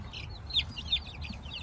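Two-week-old chicks in a homemade brooder with a heat lamp and perch, peeping continuously in high chirps, close by and moderately loud over a low steady hum.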